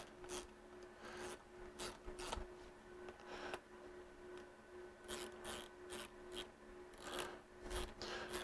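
Rubber plugs are snugged into the intake manifold of a two-stroke personal watercraft engine, giving faint, close rubbing and rasping scrapes in short repeated strokes over a low steady hum.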